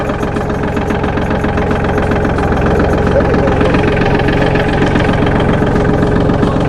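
A Solis 26+ mini tractor's diesel engine chugs loudly and close with a steady knocking rhythm as it pulls off slowly in first gear, a voice speaking over the running engine.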